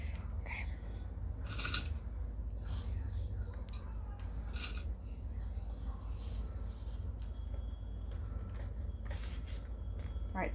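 Scissors trimming fabric pieces for a sewn pouch, a few short snipping and rustling bursts spread through a steady low room hum, with no speech.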